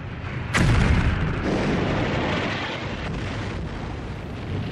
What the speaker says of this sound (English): the island of Okinawa is bombarded by the Americans